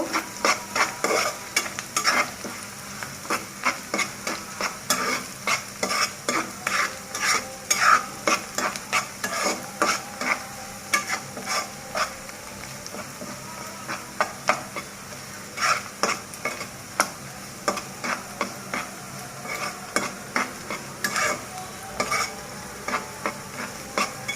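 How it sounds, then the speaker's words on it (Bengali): Cardamom pods and fenugreek seeds fry in hot oil for a Bengali chicken masala, a soft sizzle under repeated scraping strokes of a spoon against the pan in an uneven rhythm, close and fairly loud, no talking. "এইভাবে 1 মিনিটের মতো আমি এটা ভেজে নেব।"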